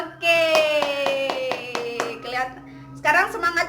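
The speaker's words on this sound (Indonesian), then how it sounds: "Kalau kau suka hati, tepuk tangan." Students in a classroom clap in a steady, evenly spaced rhythm along with a sung children's action song, voices singing over the sharp claps.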